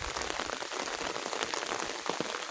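Steady rain pours down outdoors at a coconut copra-drying site in the Philippines, a dense, continuous hiss of drops with occasional louder splats, close and unbroken throughout.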